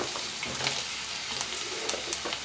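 Vegetable pieces fry in oil with onions and a ginger-garlic-cumin paste, giving a dense, steady crackling sizzle up close with faint stirring sounds and no talk.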